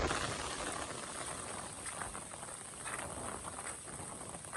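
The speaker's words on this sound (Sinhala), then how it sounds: "එකපාරට තමයි වැස්ස පටන් ගත්තේ" Steady, quiet rain hisses evenly throughout on the misty trail to Narangala Peak, Sri Lanka, a soft continuous patter with no voices.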